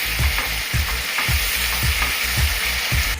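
Spiced masala paste for katla kalia, a Bengali fish curry, sizzles steadily in a pan over medium heat after a splash of water, with a spatula scraping through it in a regular rhythm of soft thuds about every half second.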